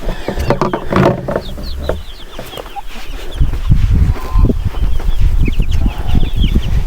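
Several backyard coop chickens cluck steadily and close by, with overlapping calls, occasional higher squawks and a brief rustle near the start.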